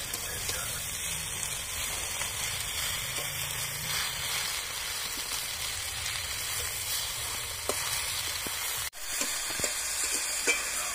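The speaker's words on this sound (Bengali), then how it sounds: "এইবার আমি সবজিগুলোর মধ্যে আলু শাকগুলো দিয়ে দিচ্ছি আর সবজির সঙ্গে ভালোভাবে মিশিয়ে নিচ্ছি।" Potato greens and mixed vegetables sizzle steadily in a hot pan while being stirred, a continuous crackling fry with occasional scrapes and taps of the spoon, close and even throughout.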